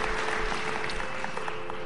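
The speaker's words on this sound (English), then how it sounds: "Ladies and gentlemen, you all deserve a round of applause." Steady audience applause fills a concert hall after a South Indian classical performance, dense even clapping throughout at moderate loudness with no voices.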